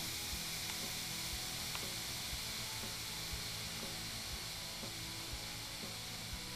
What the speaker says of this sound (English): You can hear the steam doing all the work.